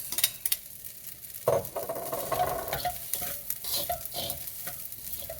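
Carrots and coleslaw mix fry in a pan for fried rice, a soft sizzle broken by scraping stirs and occasional clinks of utensil against the pan.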